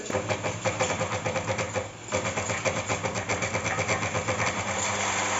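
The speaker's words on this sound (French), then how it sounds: "Je débranche l'entraînement sur l'aiguille pour que le moteur tourne à vide." A sewing machine motor spins freely with the needle drive disengaged while winding a bobbin, making a steady close whir that dips briefly once before resuming, with no talking.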